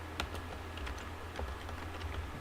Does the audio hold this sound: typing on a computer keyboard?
yes